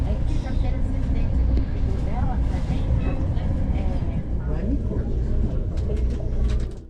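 Passenger train running on narrow gauge track in Brazil, a steady loud rumble and rattle of the carriages throughout, with faint voices in the background.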